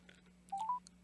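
DTMF telephone keypad tones as a number is dialed during a live-broadcast community forum call, a quick run of a few short beeps, fairly faint and with no talking.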